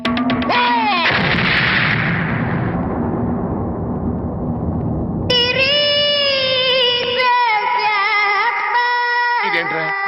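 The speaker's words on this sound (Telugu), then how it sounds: "ఇదేంట్రా గొబ్బెమ్మ పేలింది?" A comedy film scene where bombs hidden in cow-dung cones go off: a sharp blast bursts out and roars into a long rumbling decay, followed by loud, blaring musical stings, all at high volume.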